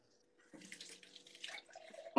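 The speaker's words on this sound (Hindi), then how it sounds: "पानी डाल लिया लोटे में डाल के।" Water poured from a tap into a metal lota while making rustic tea, a short splashing run that starts abruptly, wavers, then ends with a sharp clink of metal.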